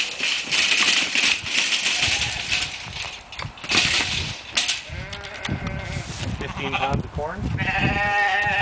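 Sheep bleat repeatedly on a farm during corn feeding, with wavering cries close by. People talk over the bleating, and other farm-animal noises can be heard in the background.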